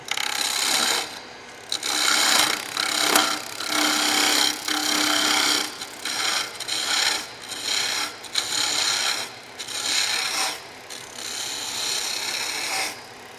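Skew chisel shaving a bead into a wooden spindle turning on a lathe, heard as repeated close scraping and hissing cuts in short bursts separated by brief pauses, with no talking.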